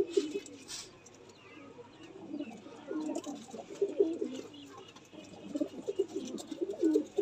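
Low, repeated cooing of pigeons, several birds calling in soft overlapping phrases, close by with faint background rustle.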